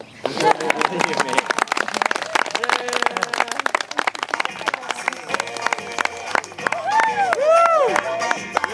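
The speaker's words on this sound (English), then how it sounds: "You may applause." Wedding guests clap and cheer at a ceremony, loud applause with crowd voices and babble over music with sustained tones.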